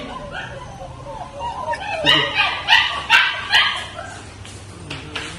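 Several German shepherd puppies bark in quick, high yips and barks, bunched in the middle and then trailing off, with a little whimpering among them.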